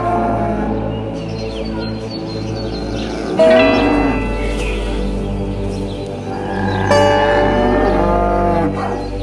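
Cows moo in long, drawn-out calls, two clear bellows a few seconds apart over a steady low background, loud and fairly near with no talk.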